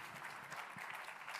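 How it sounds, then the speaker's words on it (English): A conference audience of realtors in Illinois gives a short round of applause, soft and somewhat distant, an even patter of many hands clapping with no voices over it. "Give Teresa a round of applause."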